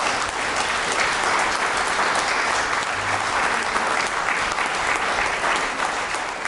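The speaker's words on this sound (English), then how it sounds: "Round of applause for the sheriff." A crowd applauds a sheriff with thick, unbroken clapping that stays at a constant loud level from start to finish, no voices rising above it.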